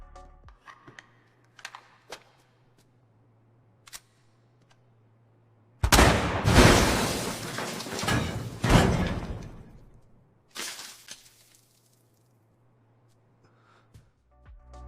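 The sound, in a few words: AI-generated video: bazooka firing and vault blowing open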